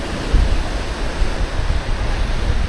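Ocean waves at Canasvieiras beach at low tide, a loud continuous roar of surf with wind-like hiss and no distinct breaks, heard alone without talk.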